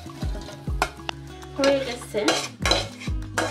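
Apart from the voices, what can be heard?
stirring and mixing fried onion with spices in a pan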